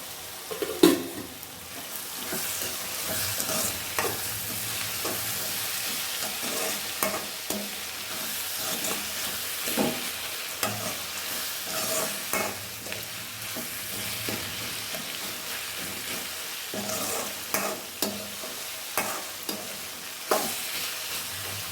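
Potatoes with finely chopped ginger being stirred and sautéed in a pan for a hotel-style potato masala, a steady sizzle and fry broken by repeated scraping stir strokes, close and with no talking.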